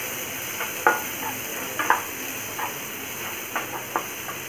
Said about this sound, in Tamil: ஜீரகம் பொரிஞ்செடுத்து வெங்காயத்தை ஆட் பண்ணிக்கிறேன்